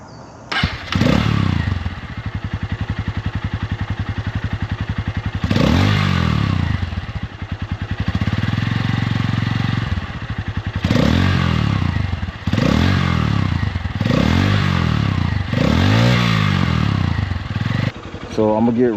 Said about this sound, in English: I did the part of the video where you guys can actually hear the exhaust.